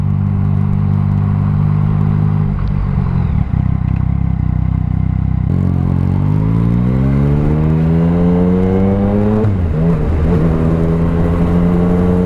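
A Yamaha MT-09 motorcycle with a Black Widow 200mm exhaust revving close up, a loud, deep engine note that climbs smoothly in pitch, dips, then rises again in a second sharp rev.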